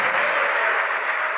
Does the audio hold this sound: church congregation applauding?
yes